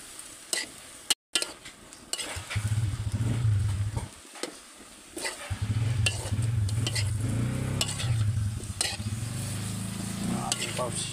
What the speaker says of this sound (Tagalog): hinahalo na natin ang ating pansit